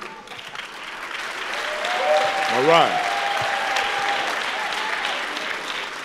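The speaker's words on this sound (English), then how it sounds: "So everybody clap real loud, real quick." A church congregation claps loudly together in a sustained burst of applause, with a voice speaking briefly over it.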